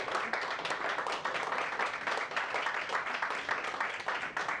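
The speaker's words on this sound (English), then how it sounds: "And just a big round of applause," An audience applauds steadily, dense clapping filling the room at an even level from start to finish.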